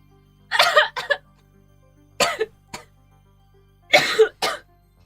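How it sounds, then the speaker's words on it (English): Three bursts of harsh, close coughing, each a quick double or triple hack, separated by brief pauses in an otherwise quiet room. "You're coughing."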